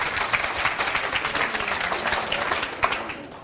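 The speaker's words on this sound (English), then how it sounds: "Give him a round of applause." An audience applauds at a hypnosis demonstration, a short burst of clapping of moderate loudness with no talk over it.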